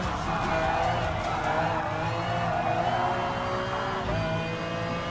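Gr.3 race cars in Gran Turismo Sport's endurance race at Autopolis, engines droning and roaring steadily together, a constant loud mechanical whine with one shift in pitch near the end.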